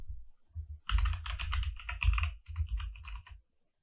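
Fingers tap out a password on a computer keyboard in quick irregular bursts of clicks, close and clear, pausing briefly before the last run of keystrokes and then falling silent.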